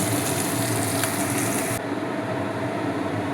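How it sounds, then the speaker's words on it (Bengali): Spiny gourd and bitter gourd frying under a lid in a pan, a steady loud sizzle that drops slightly in brightness partway through, with no talk. "কাঁকরোল আর উচ্ছে ভাজা একটু করলাম, চাপা দিয়ে করেছি।"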